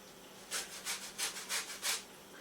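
Orange zest is rasped on a big cheese grater in about six quick, soft rhythmic strokes, close and fairly quiet, with no talking over it.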